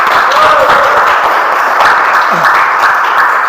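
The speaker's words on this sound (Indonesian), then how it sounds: "Tepuk tangan." Applause from a classroom audience, a steady wash of many hands clapping together that holds loud and even throughout without a break.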